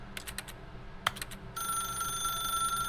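Telephone ringing inside The Stanley Parable game, a steady electronic ring with sustained bright tones that starts partway through and continues alone to the end, after a few soft clicks.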